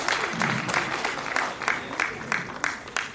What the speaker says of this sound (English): Can we have a big round of applause for our student achievers?